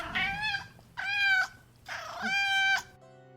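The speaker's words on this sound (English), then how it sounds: "Thank you for the meows." Three drawn-out cat meows from a video game, each harmonic and rising then falling, close and clear with short pauses between, no talk over them.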